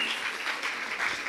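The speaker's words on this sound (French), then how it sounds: "Acclamez bien le Seigneur" A church congregation applauding, with a dense, continuous burst of clapping heard close and fairly loud.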